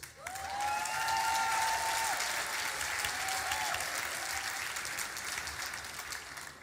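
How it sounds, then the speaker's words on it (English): Graduation audience clapping at a university autumn ceremony, a broad, even swell of applause from a large crowd, heard from a distance and slowly fading. "Why don't you clap for that?"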